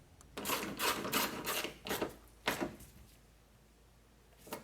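Ratchet clicks in short bursts as a 10mm bolt is tightened at the rear of a Honda Odyssey, close and fairly quiet, with pauses between strokes.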